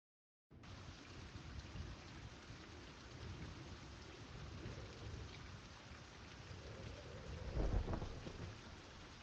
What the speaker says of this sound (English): they've got good thunder effects now. They've done some good work on rain in the game.